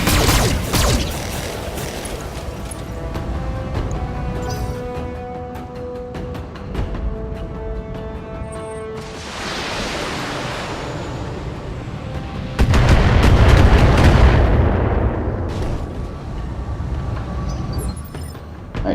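Giant mechs firing weapons in the BattleTech game, heavy booming blasts and mechanical rumble filling the whole stretch, with two especially loud bursts midway and toward the end, no talking.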